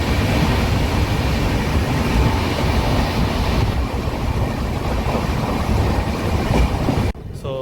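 The Mysore Superfast Express from Chennai Central to Bangalore running at about 130 km/h, a loud continuous roar of wheels and rushing wind heard from on board, ending abruptly near the close.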